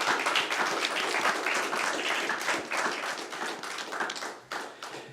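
A room applauds a prize winner at a 2018 regional sales excellence awards final in France. The clapping is dense and sustained throughout, with a slight dip near the end.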